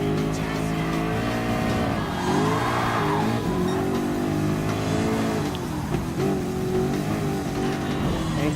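A Ford GT LM Spec II Gr.3 race car in Gran Turismo Sport holds its engine at high throttle, a loud, steady roar with rising and falling pitch running throughout, and brief tire noise mixed in.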